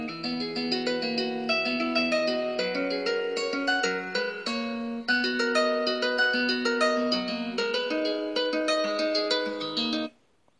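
Steady plucked guitar music plays continuously from a Lenovo K5 Note phone speaker for about ten seconds, bright and clear, with no voices, then stops abruptly.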